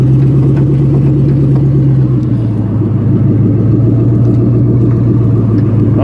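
An LS1 V8 swapped into a Mazda FD RX-7 with failed brakes rumbles steadily at low revs while rolling and engine braking, a loud continuous drone that drops slightly in pitch partway through, with no talk over it.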